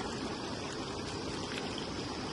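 A small, partly dried-up stream trickling steadily over stones, a continuous close babbling wash with no voices.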